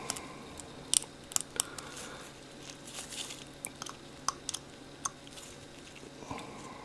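Small snips and clicks as thin bits of resin are trimmed off a miniature, scattered sharp cuts at irregular intervals over a quiet hiss, close and fairly soft.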